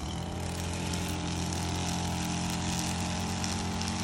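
A gas string trimmer runs in a front yard during yard work, a constant high, buzzing engine whine that stays steady and close with no pauses.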